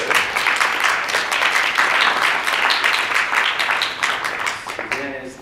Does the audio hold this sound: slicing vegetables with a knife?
no